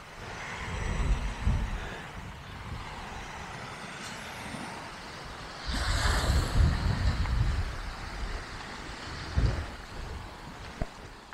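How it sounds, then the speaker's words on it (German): Steady wind rumble with a broad, surging wash of ocean waves rolling in at Dueodde, swelling louder midway and easing off, with no voices. "Hört ihr die Wellen?"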